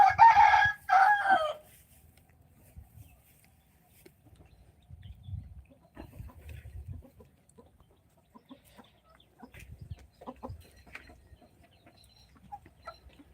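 On a poultry farm, a rooster lets out a loud, close crow at the start. Laying hens follow with quiet, scattered clucking and rustling over a hushed background.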